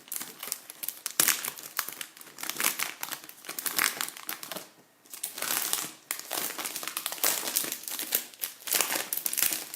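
Chalk Couture transfer sheets being cut apart, close crinkling and rustling of plastic film with irregular crisp bursts and one brief lull, no speech.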